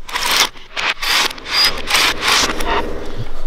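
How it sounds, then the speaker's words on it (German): A car wheel being screwed back onto its hub during a tyre and rim inspection, heard as loud, close scraping and rubbing bursts in quick succession, with no talk. "Dafür schraube ich das Rad eben mal wieder dran."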